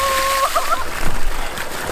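Water gushes and splashes from a homemade pressure pump drawing from a river, a close, turbulent rushing stream with sloshing bursts outdoors.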